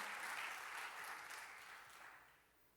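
Church congregation in Jogja applauding for Jesus, a dense wash of clapping that fills the space at first and then slowly thins and fades over a few seconds, with no voices on top.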